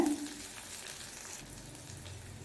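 In a pan of hot oil with popping mustard seeds and dried chillies, six sliced small onions fry for buttermilk curry. The faint, soft sizzle is continuous and settles down slightly after the first moment.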